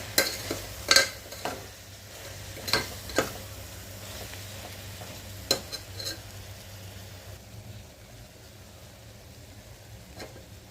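Masala being stirred and fried in oil for vegetable brinji, with scattered clicks and scrapes of a spoon against the pan over a low steady sizzle, a few sharper knocks early on, then softer toward the end.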